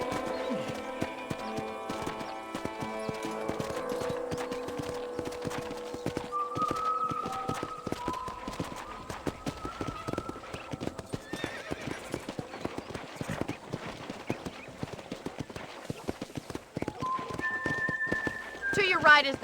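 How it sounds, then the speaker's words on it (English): Rapid hoofbeats of a galloping horse clatter on and on in the video game Red Dead Redemption, with a horse whinnying and people talking over the sound. "let's see if you can still ride a horse"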